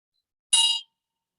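A single bell struck once during meditation practice, a bright metallic ring that sounds briefly and decays quickly into silence.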